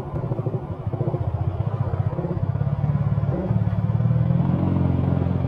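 A Yamaha Sniper 155R motorcycle engine rumbles with pulsing revs as it blips to match a downshift, steady and close, rising slightly toward the end.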